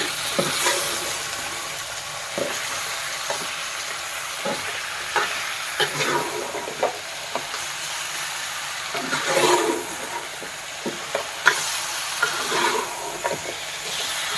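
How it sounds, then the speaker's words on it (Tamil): Country chicken pieces sautéing in oil with onion, tomato, ginger, garlic and whole spices, a dense steady sizzle and hiss punctuated by repeated scraping stirs, close and loud. "நல்லா எண்ணெயில் வதங்க விடணும்"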